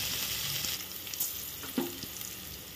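Green peas and soya beans sauté in a hot pan for a tomato bath dish, giving a steady close sizzle with brief stirring scrapes and no talk.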